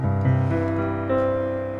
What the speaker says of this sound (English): what you're hearing is the Yamaha Grand Piano